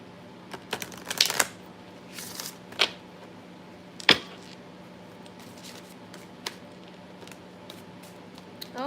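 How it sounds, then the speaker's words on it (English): Tarot cards being shuffled by hand indoors, soft papery riffles and sharp flicks at irregular intervals over a quiet background hum, fairly faint and close. "I'm going to actually shuffle these really quick."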